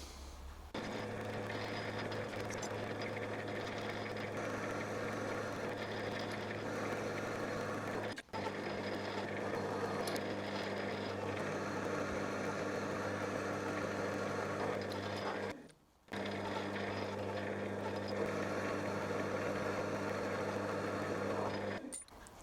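A lathe machines the spindle of a Quorn Mk3 tool grinder down to diameter, a continuous steady motor hum with a whirring cutting tone that runs for a long stretch, broken by two brief pauses, close and without talk.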